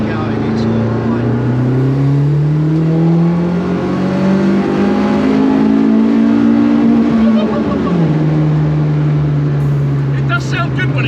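A Mini Clubman with a swapped 1.8 turbo K-series engine revs loud and close, its sustained drone climbing and falling in pitch before dropping sharply near the end.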